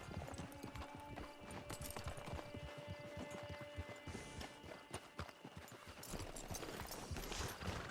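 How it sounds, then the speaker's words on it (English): Horse hooves clip-clop at a steady walking pace in the video game Red Dead Redemption 2, close and continuous, with ambient game sounds, faint tones and an occasional neigh mixed in. "Get your horse."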